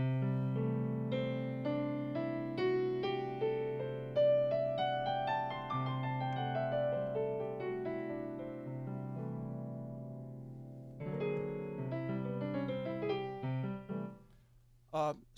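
A six-note hexatonic scale played on a keyboard instrument, rising steadily then descending, with sustained tones, followed by a short run of notes at the end.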